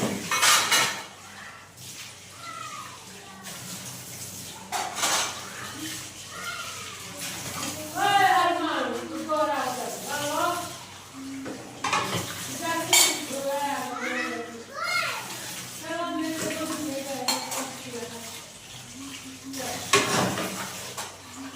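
Dishes, pots and cutlery being washed at a home kitchen slab, with repeated clinks, clatters and scraping of utensils, near and fairly loud, while someone talks and someone speaks at times.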